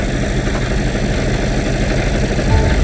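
A car engine drones steadily from inside the vehicle during a drive on a winter day, a continuous low rumble with even loudness and no talking.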